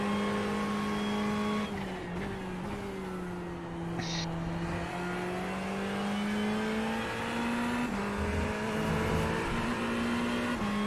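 Ferrari race car in a sim racing game at Fuji International Speedway, its engine holding a steady sustained drone with a gradually shifting pitch, loud and close throughout, with a brief high squeal partway through.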